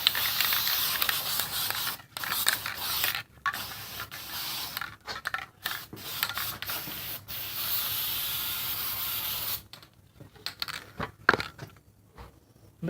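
Headliner glue sprayed onto the sides of a seat during batting work, coming as repeated hissing bursts of varying length separated by short silent gaps, fairly close.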